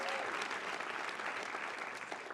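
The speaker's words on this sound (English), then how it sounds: "you can give them a huge round of applause" Audience applause at the 25th annual EMA awards ceremony, a dense steady wash of many hands clapping throughout, fairly distant and moderately loud, with no talk over it.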